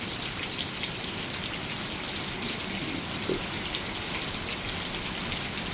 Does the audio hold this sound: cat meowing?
no